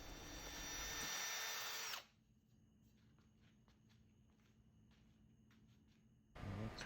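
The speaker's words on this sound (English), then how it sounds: "With doing it by hand with the hand drill, it does get a little wobbly, you could see." A hand drill spins an engine-turning tool against metal, cutting overlapping swirl patterns. The loud, steady whine runs for about two seconds and then stops, leaving quiet handling noise, before a short burst of drilling starts again at the end.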